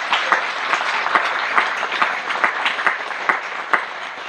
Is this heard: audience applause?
yes